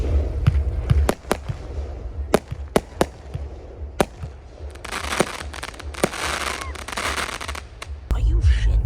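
Fireworks at a music festival burst in a run of sharp, loud bangs, followed by dense crackling spreading in the middle stretch, with crowd noise and a low bass rumble from the festival underneath.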